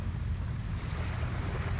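Ocean water rolls in and pulls back in a continuous rushing wash, with wind noise buffeting close to the microphone.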